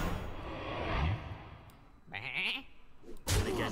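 Sheep bleating in Hearthstone, a short wavering bleat near the middle among other card-game effects, with whooshing bursts before and after.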